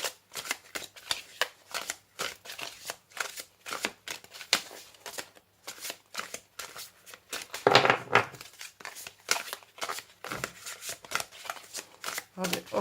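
Oracle cards being shuffled during a card reading, a steady run of quick papery riffles and flicks at close range, with a brief louder burst partway through and a voice talking over parts of it.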